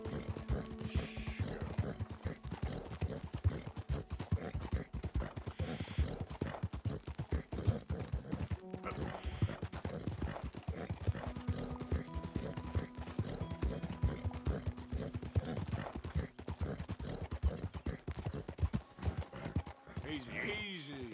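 Horse hooves clip-clopping at a steady walking rhythm in Red Dead Redemption II, with rain and ambient game sounds around them and someone talking calmly to the horse over the steps.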